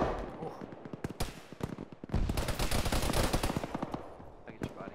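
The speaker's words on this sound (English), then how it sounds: "Somebody have your machine gun to our south, engaging one." Machine gun fire in a tactical shooter game, with dense rapid bursts of automatic shots, some close and loud and some more distant, continuing throughout as a vehicle-mounted gun joins in.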